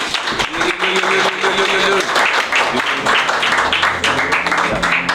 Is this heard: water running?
no